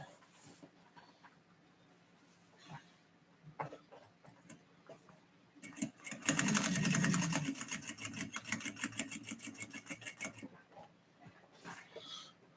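A sewing machine stitches across a fanny pack in a burst of about four seconds of rapid, even needle strokes, with quieter handling noises before and after.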